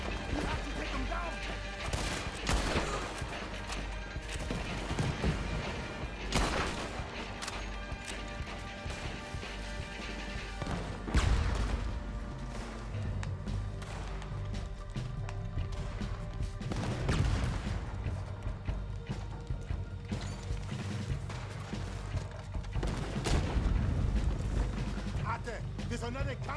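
Cannon fire in Red Dead Redemption 2 on Xbox One: heavy booms and crashing blasts recur every few seconds amid constant gunfire and battle noise, with voices talking throughout.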